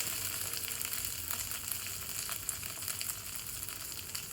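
Onions frying in released oil in an uncovered pan for a vegetarian pointed gourd and potato korma, a faint, even sizzle with light crackles throughout, no voices.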